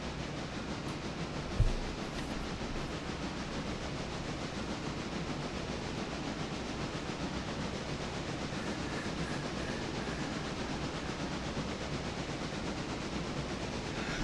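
A train in the game Railroader rolls steadily along the rails, making a continuous rumbling clatter with one brief thump early on and no voices.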